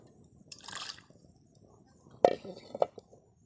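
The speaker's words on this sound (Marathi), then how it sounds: "आता हे आपण अतिशय स्वच्छ धुवून घेत आहोत स्वच्छ पाण्याने एकदम" A few soft splashes and drips of clean water as country chicken is washed close by, with quiet gaps between them.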